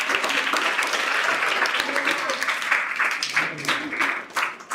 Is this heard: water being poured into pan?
no